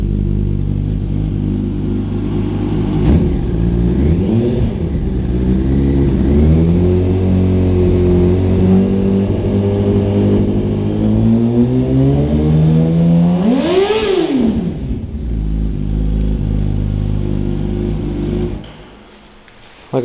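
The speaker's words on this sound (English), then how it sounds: "Like I said, it's a great sounding exhaust." A Yamaha R1 sport motorcycle with an aftermarket exhaust idles with a deep burble, then the throttle is blipped into two sharp rising revs before it settles and cuts off, loud and close.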